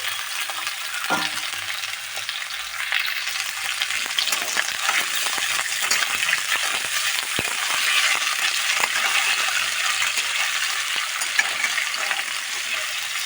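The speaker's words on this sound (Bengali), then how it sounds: "এই পেঁয়াজের সাথে আমি ওইগুলো সব দিয়ে দিচ্ছি, দিয়ে একসঙ্গেই ভাজা করে দিচ্ছি।" Continuous oil sizzle of onions frying with added ingredients in a pan, with spatula scrapes and stirring clatter, close and fairly loud, with no talking.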